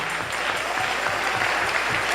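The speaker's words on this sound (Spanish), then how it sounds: "Denle ese aplauso al Rey." A church congregation applauds steadily, a dense wash of clapping that holds at an even level for a couple of seconds.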